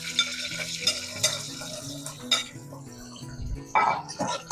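Onion and curry leaves go into hot oil with popped mustard seeds in a pan for mutton kulambu, giving a moderate sizzle broken by repeated stirring scrapes and clinks of utensil on metal.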